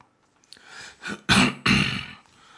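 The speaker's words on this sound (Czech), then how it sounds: "odkašlal si a začal." Someone clears their throat several times in short, rough bursts, close up, with no talking.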